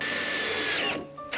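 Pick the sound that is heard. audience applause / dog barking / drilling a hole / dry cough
drilling a hole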